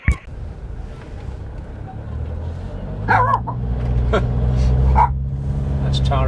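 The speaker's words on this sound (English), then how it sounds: "That's Tara barking at some kids." A dog barks a few times at a distance at Dunnottar Castle in Scotland, over steady outdoor rumble and traffic-like noise, with a sharp thump at the start.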